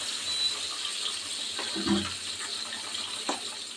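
Pabda fish being washed under running tap water, with a steady hiss of flowing water and a few splashy bursts as the fish is handled, close and moderately quiet.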